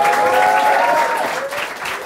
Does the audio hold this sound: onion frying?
no